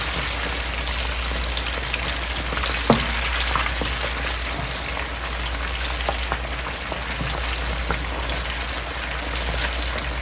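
Chicken deep-fries uncovered in a pot of oil, a dense, even crackle and spatter like heavy rain, with a low steady burner rumble underneath and an occasional sharper pop.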